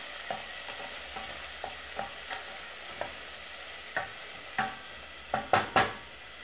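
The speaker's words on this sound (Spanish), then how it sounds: "Primero echamos la cebolla que se cristalice y después echamos el tomate." Chopped onion sizzles in a hot pan while a spoon scrapes and stirs it, a dozen or so sharp clicking strokes landing irregularly over a steady quiet fry, with the stirring growing busier toward the end.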